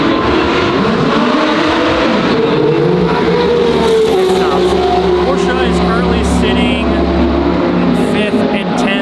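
Porsche race cars racing on a circuit during an endurance race, a loud continuous engine roar with passing cars rising and falling in pitch, heard from trackside with some talk in the background.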